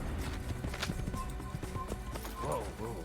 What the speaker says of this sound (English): I feel like the horse is skipping, not galloping.